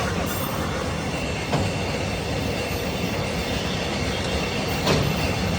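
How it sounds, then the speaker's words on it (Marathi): A long loaded freight train rumbles past close by, a steady roar of wheels on rails with occasional metallic squeals, continuous throughout. "माल भरून चालले हा कसला माल आहे काय माहिती पण वेगळाच आहे लांब रेल्वे संपत आले"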